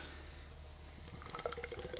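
A hazy beer being poured into a glass and building a lot of head, heard as a faint liquid trickle and fizz that rises and becomes busier partway through.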